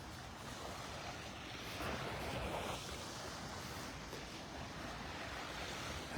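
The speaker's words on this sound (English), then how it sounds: "I don't know if you can hear them over the little waves lapping on the shore in the video." Small waves lapping on a beach shore at North Naples, Florida, a faint continuous wash of surf mixed with light wind noise, one slightly fuller swell midway, no voices.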